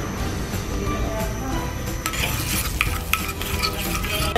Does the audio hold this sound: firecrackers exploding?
no